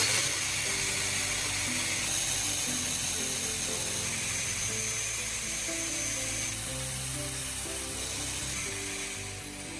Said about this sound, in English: Take an old nail and grind one end until it is sharp and clean.